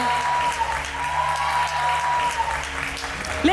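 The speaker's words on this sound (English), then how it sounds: "Let's give a round of applause one more time for Azana." An audience at the Lesedi Awards 2022 claps for performer Azana, sustained even applause with a faint tonal hum running beneath it.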